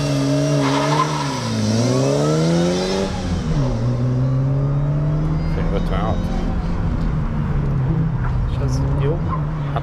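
A big-block Nissan Micra accelerates hard on a race track, its engine rising through the revs and shifting with a drop in pitch before roaring on loudly and close, with people talking throughout.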